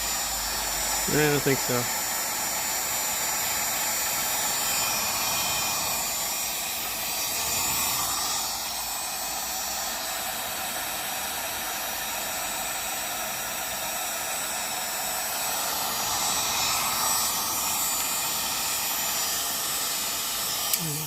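A hot air blower heats a part on an RCA R7A radio, giving a steady broadband roar that holds through the whole stretch with little change in level, with a brief spoken line near the start.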